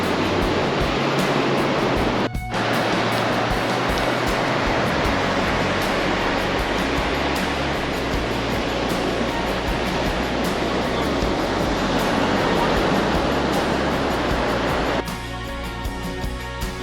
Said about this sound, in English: That was an awesome beach.